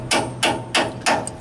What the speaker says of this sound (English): Can you give me a little hammer, please? Yep. And a punch.